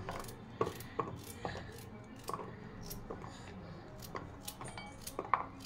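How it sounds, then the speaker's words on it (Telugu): A knife slices a peeled carrot into rounds on a board, a series of soft, irregular chopping taps and light clinks, close and fairly quiet. "తీసేసుకున్న తర్వాత ఈ క్యారెట్ని ఇట్లా రౌండ్గా కట్ చేసుకోవాలి"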